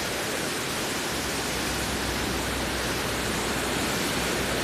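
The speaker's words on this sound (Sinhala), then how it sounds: "මේ බලන්න දිය ඇල්ලේ යටිපැත්ත." Steady broadband roar of rushing water at the base of a large waterfall, loud and continuous without any break, with no voices over it.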